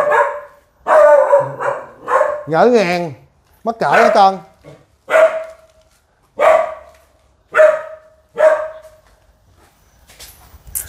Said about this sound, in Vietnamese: Đây có hai bạn chó.